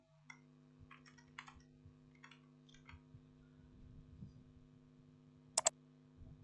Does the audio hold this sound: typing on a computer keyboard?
yes